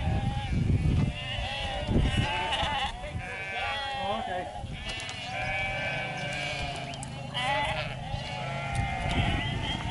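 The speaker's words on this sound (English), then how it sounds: "we're not disturbing his sheep on purpose" Sheep on a farm along the Pennine Way bleat repeatedly in a loud, overlapping chorus, with several animals calling close by and continuous talk and walking noise underneath.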